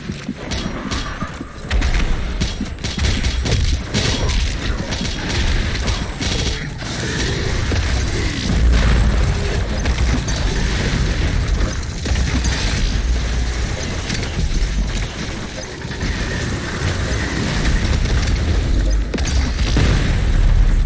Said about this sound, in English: The ice bomb doesn't launch that far.